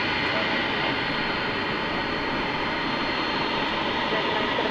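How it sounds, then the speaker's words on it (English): A Boeing 767 at DFW Airport at night makes a steady, broadband jet roar from a moderate distance, a continuous wash of engine noise with no break. "Here's the 767 on its way to Louisville, blinding us with the light."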